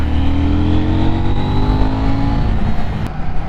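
A KTM 790 Duke middleweight motorcycle engine runs loud and close, its pitch climbing steadily as it revs, a rough continuous roar with no talking.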